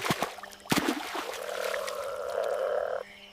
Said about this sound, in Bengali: ব্যাঙের ডাক বেড়ে যাচ্ছে